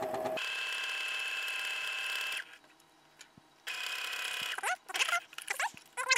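A sewing machine hums steadily along the side seam of a messenger bag, then falls quiet for about a second. It restarts in shorter, uneven bursts with mechanical clicks.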